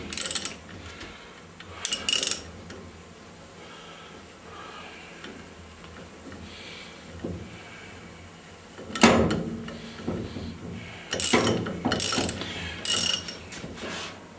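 A hand tool clicks and ratchets while running a plug down into an engine cylinder head, bursts of metallic ratcheting separated by quieter pauses over faint background hum.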